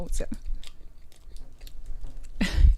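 Snack cakes being chewed with wet mouth noises, plastic wrap crinkling, and a sharp crunch near the end; close and fairly loud, with some talk mixed in.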